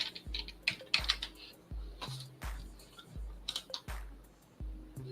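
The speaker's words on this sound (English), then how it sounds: "Let me just type the numbers." Rapid bursts of keystrokes on a computer keyboard as numbers are typed, with irregular clusters of clicks and short pauses, fairly close and quiet, with no voices over it.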